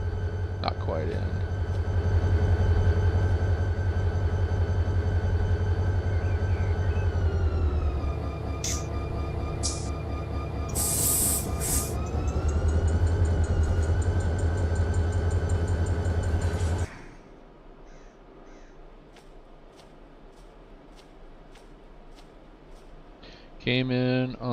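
A freight train rolls through a rail yard in the Run8 train simulator game, a loud steady engine drone with horn-like tonal bands that drops off abruptly near the end, leaving quieter rumbling and clicks; speech runs over it.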